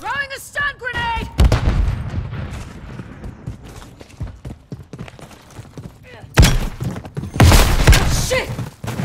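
Stun grenade bursts and rapid gunfire in Modern Warfare 3 team deathmatch, with heavy thuds and sharp shot volleys close by, loud bangs late on, alongside game voice callouts.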